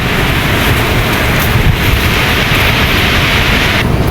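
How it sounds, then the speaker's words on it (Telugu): Strong floodwater rushes through a residential colony during Cyclone Montha, a loud, steady roar of broadband noise with wind buffeting the microphone and no voices. "వాటర్ ఫ్లో చాలా గట్టిగా ఉంది గైస్"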